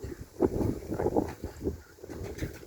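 Gusty wind buffets the microphone in uneven low rumbling bursts, rising and falling throughout with no clear voices, outdoors while flying pigeons.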